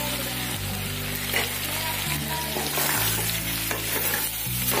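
Sauces such as tomato, chilli, dark soy and oyster being stirred into Chinese chicken sizzling in a pan, with a steady loud frying hiss, a low background hum and scraping stir strokes throughout, no talking.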